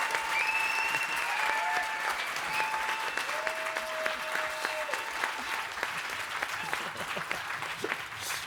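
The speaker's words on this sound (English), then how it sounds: "I need everybody to whoop and cheer that one last final time for our contestants" An audience at a pitch competition claps steadily for the contestants, with whoops and sustained cheers rising over the dense applause near the start before settling into even clapping.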